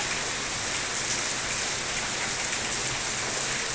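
Steady rain pours down continuously, a dense even hiss with no voices.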